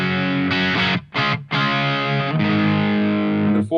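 Electric guitar played through the tube clean preset of a 1980s ADA MP-1 preamp: sustained, ringing chords with brief gaps around the one-second mark, loud and close, no talking.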